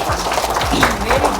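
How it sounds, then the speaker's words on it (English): An audience claps at a children's prize distribution for little nursery-class winners, a short burst of scattered applause heard under an ongoing voice. "Clap everyone loudly"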